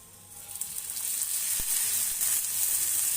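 Masala ragi roti fries in oil on a hot griddle, giving a steady close sizzle with a faint hiss that grows slightly louder, plus one brief tap.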